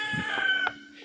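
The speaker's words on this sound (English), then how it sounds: "Sorry about the chicken." A chicken gives a few short, nasal clucks close by against a faint steady hum, lasting about a second.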